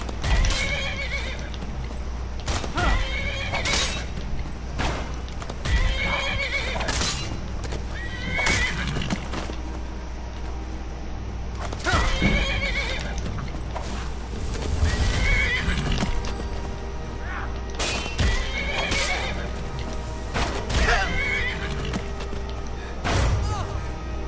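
A horse in the Skyrim video game whinnies repeatedly and clip-clops on its hooves, close and loud, with neighs recurring every few seconds over a steady game backdrop.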